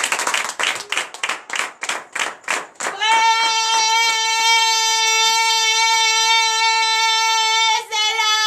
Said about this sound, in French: Donne de vives acclamations à la croix.